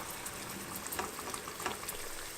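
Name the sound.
shallots deep-frying in oil, bubbling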